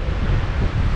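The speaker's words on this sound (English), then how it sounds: "wow, okay, so now it's windy" Strong wind buffets the microphone beside a trout stream on a stormy day with a weather front moving in, a steady low roaring rush that fills the whole second with no voices.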